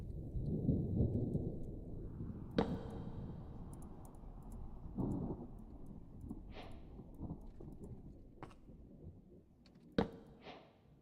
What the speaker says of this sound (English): And there's the rain coming in.